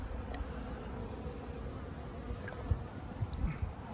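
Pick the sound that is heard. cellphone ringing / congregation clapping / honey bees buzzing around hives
honey bees buzzing around hives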